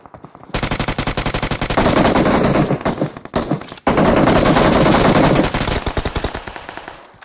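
An MP gun fires in the BGMI video game in rapid automatic bursts, loud and dense, with a short break midway and tapering single shots toward the end.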